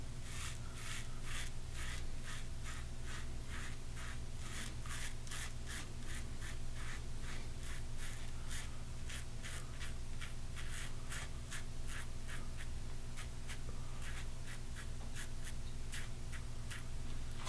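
A Merkur 37C safety razor shaves stubble on the sideburn in quick, regular rasping strokes, a close and steady series of scratchy passes with no talk.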